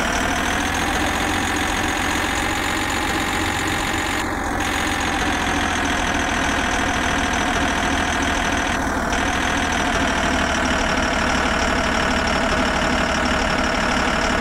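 An Indian cargo truck engine runs in a mobile truck-driving game, a loud, steady droning idle that holds unchanged for the whole stretch with no talking.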